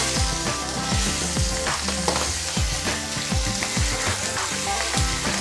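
Fish heads, already browned on both sides, splutter loudly in a pan of hot oil as they are broken up and fried. A dense, continuous sizzle runs close-up throughout, with scraping and stirring mixed in.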